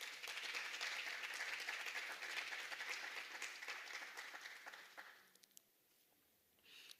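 An audience applauding an award winner at a regional top awards ceremony, steady dense clapping that tapers off into a few scattered claps and quiet before a faint swell at the end.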